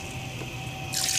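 Water poured into a cooking pot of pressure-cooked mutton and potatoes for Punjabi-style aloo gosht, a soft steady trickle that swells into a louder splashing rush near the end, with no talking.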